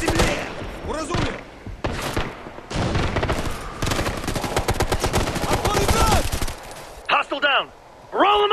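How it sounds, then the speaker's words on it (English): Light machine gun fire in the video game Ghost Recon: Future Soldier, loud sustained bursts of rapid automatic shots with shouted voices in between and at the end. "Loud machine gun!"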